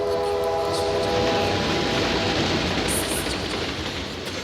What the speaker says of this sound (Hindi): ट्रेन ब्रिज पे से गुजर रही है। हाँ, रेलवे ब्रिज।